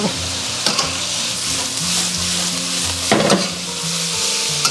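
Pickled mustard greens, soaked beforehand, stir-fried in a hot pan: a steady sizzle with scraping spatula strokes, two louder tossing bursts, no voices, close and fairly loud.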